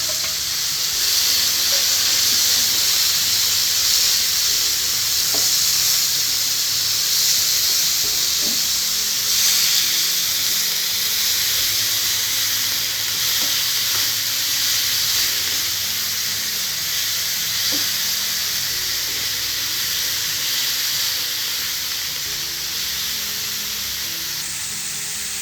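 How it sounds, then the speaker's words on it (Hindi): Minced meat masala cooking in hot oil in a pan, a steady loud sizzle and hiss that continues evenly throughout with faint occasional ticks and pops. "पैन में थोड़ा सा ऑयल गर्म करने के बाद हम इस मसाले को पका लेंगे"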